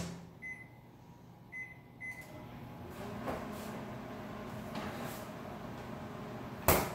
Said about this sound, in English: I'm gonna microwave it just so it gets a little bit looser.